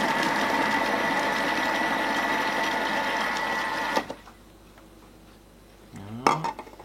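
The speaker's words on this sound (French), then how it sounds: "on vient mixer là les avocats" A Thermomix kitchen blender mixes avocados for guacamole at speed 3, a steady loud whirring motor hum that runs for about four seconds and cuts off, followed by quiet and a brief clatter near the end.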